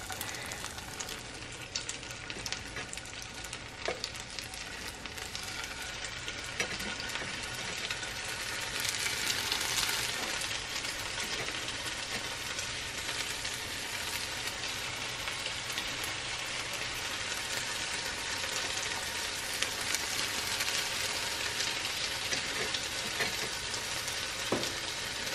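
King's Hawaiian roll French toast sticks, light fluffy bread dipped in custard, frying steadily in a hot pan, a continuous close crackling sizzle throughout with no voices.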